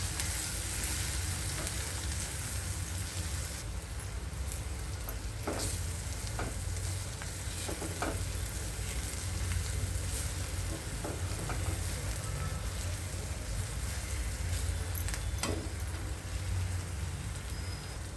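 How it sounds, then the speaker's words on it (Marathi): Kolhapuri masala sizzles and crackles steadily in hot oil while being stirred for chhole, a soft continuous frying hiss with occasional spatters and clinks, fairly quiet and without talk. "आता मसालाही तेलामध्ये एकजीव परतून घेऊया।"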